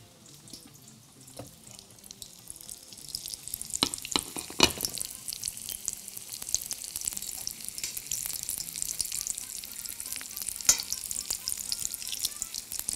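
Sambousek filled with peas and potatoes frying in shallow oil in a low pan, a steady bright sizzle that swells after a few seconds and continues, with occasional clinks and scrapes of a utensil, no talking.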